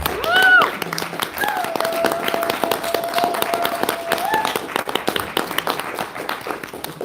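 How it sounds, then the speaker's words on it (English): Audience applause at a campus political debate, crowd clapping running under music and a voice, moderately loud and continuous throughout. "let's give these guys a round of applause."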